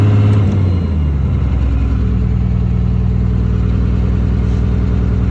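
A 12v Cummins diesel engine idles with a steady, loud, close rumbling drone, settling after a brief higher opening into an even throb for the rest, with no voices.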